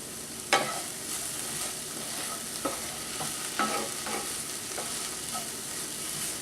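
Mushrooms sizzle steadily in a stir-fry pan over medium-low heat, a continuous frying hiss broken by a few sharp clinks and scrapes of stirring, close and without talk.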